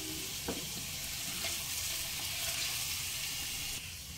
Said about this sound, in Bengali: চিকেন 4 থেকে 5 মিনিট মিডিয়াম ফ্লেমে ভেজে নিয়েছি।